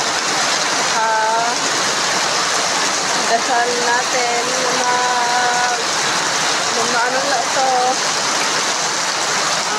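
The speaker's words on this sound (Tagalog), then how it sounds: "Ayun, malakas na po ang ulan." Steady, loud rainfall from a typhoon drums on without pause in Lemery, Batangas, while a person speaks over it in short stretches, the downpour staying constant beneath the voice.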